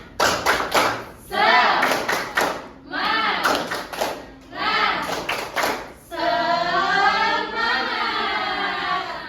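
Schoolchildren in a classroom perform a rhythmic clapping chant, bursts of patterned claps alternating with group chanting voices, loud and close, ending in a sustained sung section.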